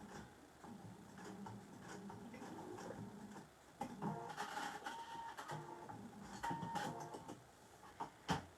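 A sewing machine tacking a few stitches to join pleated fabric trim, heard as faint, quiet mechanical whirring and ticking in short uneven bursts.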